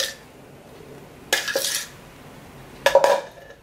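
A spoon scrapes and clinks against a bowl in two short bursts while mayo is mixed into a vegan chayote and mushroom burrito filling, with quiet pauses between.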